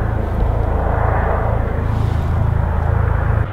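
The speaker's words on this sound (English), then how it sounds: "I think we're being circled by a helicopter." A helicopter circles overhead at dusk near a bike tour stop in Scotland, its engine and rotors producing a steady, fairly loud low rumble that stays constant throughout.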